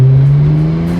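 A BMW 335i fitted with big twin turbos pulls hard under acceleration, a loud, close, steady engine drone that climbs slightly in pitch for about a second with no voices.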